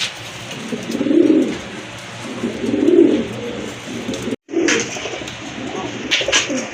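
Pigeons coo in repeated low, rolling bursts at close range, with a pair just released into a coop setting where birds are sold; the calls swell and fade several times with a brief pause.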